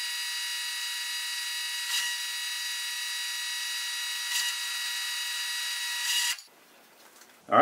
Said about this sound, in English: let's get our half inch drill bit in here. We'll punch this hole through